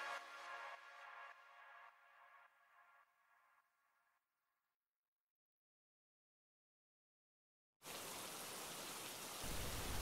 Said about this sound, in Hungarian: Megérkezett az eső.